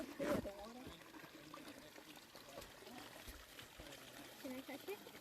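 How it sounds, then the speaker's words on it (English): Natural water trickling and pouring along a hiking trail in Henry Cowell state park, with a brief louder splash at the start and a steady soft flow under people talking. "Can't believe it. Natural water"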